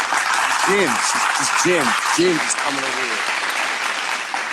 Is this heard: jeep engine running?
no